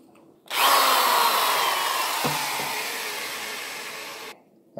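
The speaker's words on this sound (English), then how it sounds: "I'm going to drill through each one of these." A power drill bores through wood backing, a loud steady whine that runs for about four seconds, dips slightly as the bit bites, then stops abruptly.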